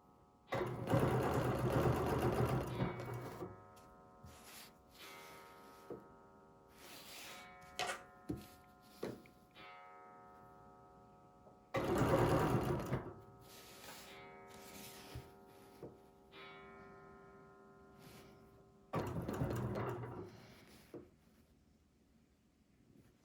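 A sewing machine stitches a quilt in a hearts-and-loops pattern, with loud bursts of rapid mechanical whirring separated by pauses and short single stitches, close up, with no speech over it.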